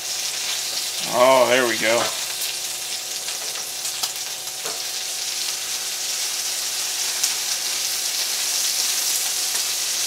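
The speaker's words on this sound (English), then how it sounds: "Let's go ahead and flip this bacon over." Bacon sizzling steadily in a pan, turned over partway through with a faint clatter, while a voice speaks briefly near the start.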